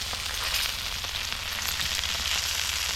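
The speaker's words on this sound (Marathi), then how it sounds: "बऱ्यापैकी आपले मासे बोंबील फ्राय झालेले आहेत" Bombay duck (bombil) fish frying on a wood-fired clay stove outdoors, a steady close crackling sizzle with continuous hiss filling the whole stretch, no voices.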